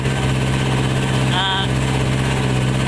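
A large combine harvester in a muddy rice field runs with a steady, loud engine drone and low mechanical hum, constant throughout with a short higher whine partway through.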